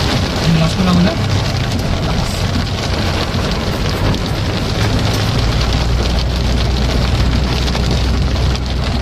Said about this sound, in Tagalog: bubuhos dyan yung malakas na ulan